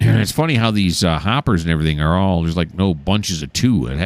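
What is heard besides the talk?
No everyday noise stands out behind the speech.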